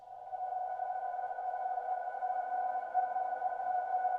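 A rusty gate creak, processed with delays, extra reverb and heavy EQ into a steady, sustained pitched tone, holding a constant drone throughout with no talk.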